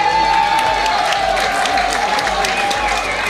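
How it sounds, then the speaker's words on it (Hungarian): A festival crowd applauds and cheers to welcome performers, with a continuous dense roar of clapping, a steady tone running underneath and voices mixed in. "hogy előre hatalmas tapsal fogadtassuk őt"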